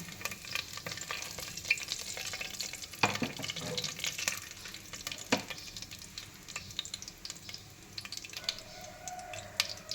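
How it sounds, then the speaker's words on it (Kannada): Food dropped into hot oil in a pressure cooker sizzles continuously up close, with sharp crackles, spatters and stirring scrapes throughout. "ಎಣ್ಣೆ ಕಾದಿದೆ ಫ್ರೆಂಡ್ಸ್, ನೋಡಿ ಇವಾಗ ಹಾಕ್ತೀನಿ."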